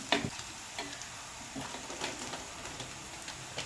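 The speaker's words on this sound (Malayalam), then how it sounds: "മഞ്ഞൾപ്പൊടി ഇട്ട് നല്ല പോലെ ഒന്ന് ഇളക്കി യോജിപ്പിക്കാം" Turmeric powder stirred into fried crushed chili in a pan makes a quiet sizzle, broken by light, regular scrapes and taps of a spoon.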